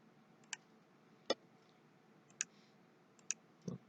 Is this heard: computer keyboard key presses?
yes